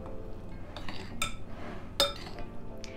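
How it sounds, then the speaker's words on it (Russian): Salad being mixed with mayonnaise in a bowl, giving a few close clinks and scrapes of a utensil against the dish, with soft wet stirring between them and no talking. "И хорошо теперь все это перемешиваем."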